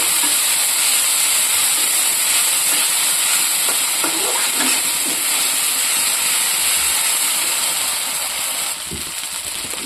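Spice paste frying with browned onions in a pan gives a steady, loud hiss and sizzle that lasts throughout, with faint clinks now and then.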